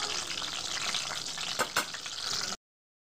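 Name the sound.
eggplants frying in oil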